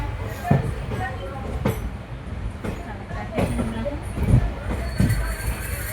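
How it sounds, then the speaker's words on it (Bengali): A passenger train pulling out, a low rumbling rolling noise with periodic clanks and thumps of the wagons, heard from on board amid a busy, murmuring background. "ফাইনালি ট্রেন ছেড়ে দিচ্ছে"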